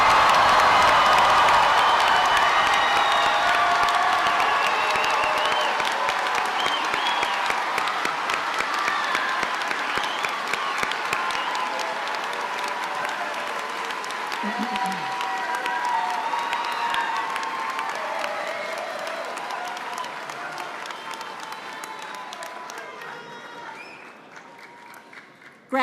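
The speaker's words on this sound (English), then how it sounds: "Let's give our newest graduates a big round of applause." Graduation ceremony audience for the class of 2025 breaks into sustained loud applause with cheering and whoops from a large crowd, filling the hall and slowly tapering off toward the end.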